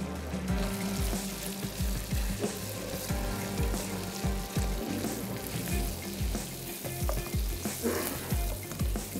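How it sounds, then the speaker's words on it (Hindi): Yogurt goes into a hot frying pan for Hyderabadi malai qorma, and a steady, loud sizzle and bubbling fry runs throughout with small scraping clicks, close up and with no voices. "चलें जी, चलें, मैं यहाँ पर दही ऐड कर रही हूँ।"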